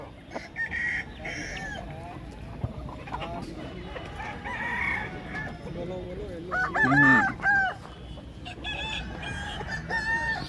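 Aseel roosters crow and cluck amid a busy village market, several birds calling at once with one loud, drawn-out crow standing out near the middle, while people bargain and talk throughout.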